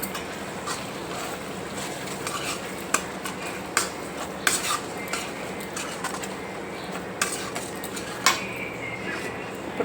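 A spoon stirs tamarind rice in a pan, with repeated light scraping and sharp metallic clinks of utensil against the pan against a steady background hiss.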